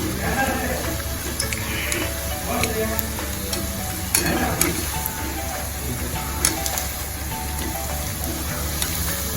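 Leftover-rice bhajiya fry in hot oil over a low gas flame, a steady, close crackling sizzle that runs continuously with small pops scattered throughout, and a voice speaking faintly over it.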